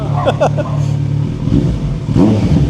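A 2025 Kawasaki Z900 SE motorcycle engine revs up and falls back nearby, a rising mid-pitched roar with uneven exhaust bursts, while people talk over it.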